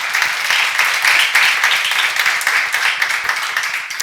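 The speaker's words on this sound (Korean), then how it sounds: "박수 한번 주세요." A church congregation applauds during a seminar sermon, a steady dense wash of clapping that fills the room for several seconds with no speech over it.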